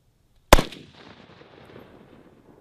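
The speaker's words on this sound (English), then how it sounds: "we're going to put 10 rounds down range and see what we can do" One loud pistol shot with Red Army Standard ammunition cracks at an outdoor range, followed by a decaying echo and faint ambient noise.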